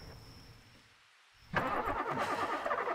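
Car engine cranking and trying to start in the horror game The Quarry, a faint tone and low rumble, then a sudden loud burst of mechanical engine noise that continues steadily.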